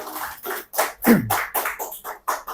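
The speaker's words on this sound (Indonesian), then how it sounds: "tepuk tangan dulu untuk kita semua dulu" Audience members clap together in a school training session, giving roughly ten distinct, uneven bursts of clapping that are close and fairly loud, with no voices over them.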